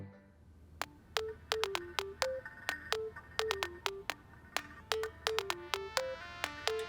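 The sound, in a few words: phone ringing unanswered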